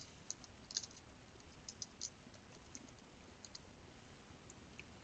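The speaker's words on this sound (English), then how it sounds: "So I'll go ahead and type that in." Faint, sparse tapping of keys on a computer keyboard in a quiet room, a few scattered light clicks with short bursts, no voices.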